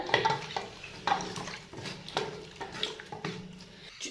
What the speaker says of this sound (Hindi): इसमें हमने चम्मच चला दिया